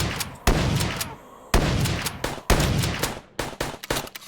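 Rapid gunfire inside the VRChat video game, loud close bursts of automatic shots in three or four volleys separated by short pauses, ending in scattered single shots.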